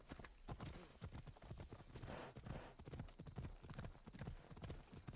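Horse hooves clip-clopping at a steady trot in Assassin's Creed Odyssey, close and continuous throughout.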